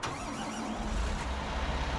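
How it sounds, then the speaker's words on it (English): A Fendt tractor engine in the Farming Simulator 19 video game runs with a steady low rumble that thickens into a deeper drone partway through, with no voices. "the Fendt tractor"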